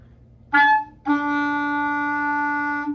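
A single sustained clarinet note, E, rings out clearly after a brief squeaky start, holding steady for about two seconds, close and alone.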